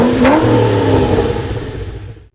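Holden Monaro muscle coupe engine with a stainless dual exhaust revs up hard, pitch climbing then settling into a loud, rumbling drone that slowly fades, close and alone.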